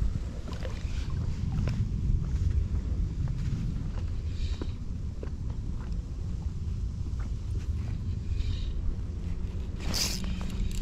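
Steady wind blows outdoors by a gravel-pit lake near Sofia, a continuous broadband rush with gusty buffeting against the microphone and a few small knocks, no voices.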